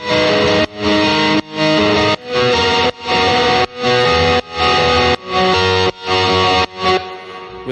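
Heavily distorted guitar chords processed with hardcore distortion, convolution, parametric EQ and reverb, in rhythmic bursts, each swelling in then cutting off abruptly, gritty and dense with effects, no voices.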